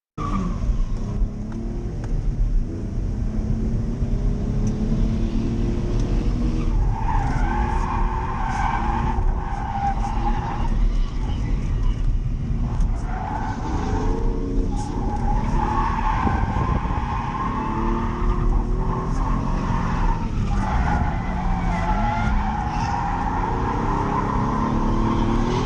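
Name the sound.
car drifting with tires skidding and squealing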